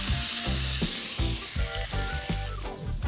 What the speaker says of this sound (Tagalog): Yan na natin mantika. Tapos, bawang at sibuyas.